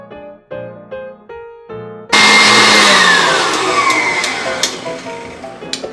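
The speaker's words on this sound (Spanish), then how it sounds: "agregamos la mitad del azúcar, más o menos, y seguimos batiendo hasta obtener un merengue más duro" An electric mixer whips egg whites and sugar into a stiff meringue. A few short musical tones come first, then a loud, close, continuous whirring drone with occasional clicks from the beaters against the bowl.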